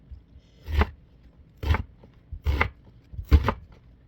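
Knife chopping through a red onion on a board: four distinct, crisp cuts spaced about a second apart, close and fairly loud, with quiet pauses between strokes and no talking.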